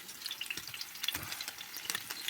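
Potato pancakes frying in oil in a pan give a steady, close crackling sizzle with bright spitting pops scattered throughout, fairly quiet and heard alone without speech.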